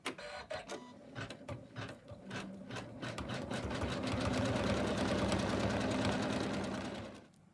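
An embroidery machine stitches an outline through wadding on a snowman Christmas stocking. Its rapid needle clatter starts in short bursts, then settles into a loud, continuous mechanical rattle that stops abruptly at the end.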